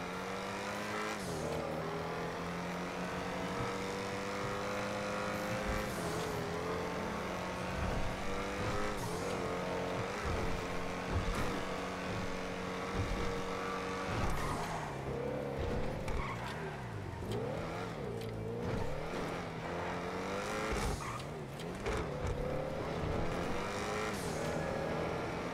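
A car engine in GTA V role play revs and drives steadily, its pitch rising and falling with gear changes and throttle, with occasional tire squeals and bumps, loud and continuous throughout.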